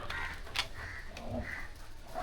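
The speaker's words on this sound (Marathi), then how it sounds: "कव्वा कुठे गेला कव्वा कुठे आला" A crow caws several times in short, hoarse calls, fairly faint and distant against quiet outdoor background noise.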